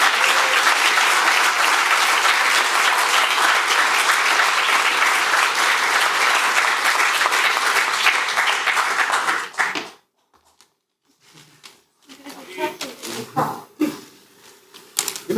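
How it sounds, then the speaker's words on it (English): A conference audience at the 2013 Founder Factory closing remarks breaks into loud, sustained applause for about ten seconds, then it cuts off to near silence followed by scattered faint noises. "So if we can give a quick round of applause for Gloria, I'd appreciate it."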